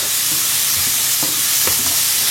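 Steady, loud sizzling of onions frying in a hot pan, with occasional scraping stirs and small pops, no voices.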